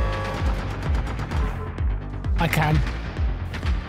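Bursts of turret gunfire in the video game Generation Zero come as rapid repeated thumping shots with a sharp crackling impact midway, while a player talks over the action.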